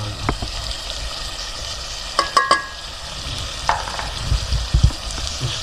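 Chicken korma fries in a pan after salt and chili go in, giving a continuous sizzle broken by a few sharp scrapes and clinks of stirring, close and without speech.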